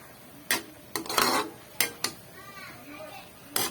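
Pancit canton cooked in a pan: several sharp clanks and scrapes of a utensil against the pan, spaced irregularly, over a soft background sizzle.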